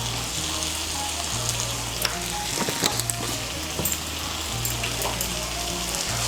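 Ash gourd with ginger paste and a little sugar fries in a pan, giving a steady close sizzle with occasional sharper crackles and stirring scrapes, with nobody talking.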